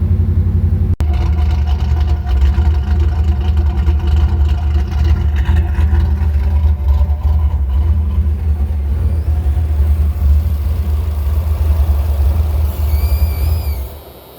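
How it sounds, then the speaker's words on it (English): Car engine idling loudly and steadily after being started with a new starter, a deep continuous rumble close by that cuts off abruptly at the end as it is shut off, no talking. "I'm gonna shut it off while it's hot and then fire it back up and see how that does."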